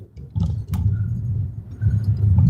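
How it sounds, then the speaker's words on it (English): An elderly couple's car struggles and fails to start, its engine cranking in a low, uneven churn that swells over a couple of seconds and grows louder toward the end, close by with no talk over it. "Oh, their car's not starting."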